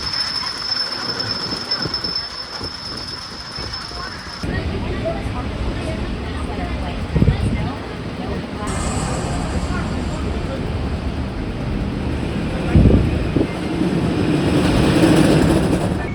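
Front-row ride on the Kentucky Flyer roller coaster at Kentucky Kingdom: a steady rumble of rolling wheels and rushing wind, with surges of louder roaring and rattling as the train swoops through the track.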